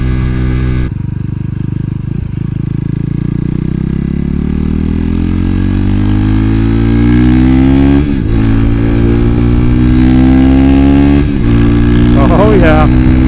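A KTM RC390 motorcycle fitted with a Power Commander V accelerates through the gears. The engine climbs steadily in pitch, dips briefly at each shift and climbs again, loud and close, with wind rush and a voice speaking.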